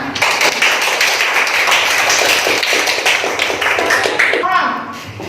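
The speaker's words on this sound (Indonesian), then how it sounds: "Tepuk tangan untuk kita semua." Group clapping in a third-grade Indonesian-language classroom, a dense burst of hand claps over about five seconds with children's voices and chatter mixed in, fading near the end.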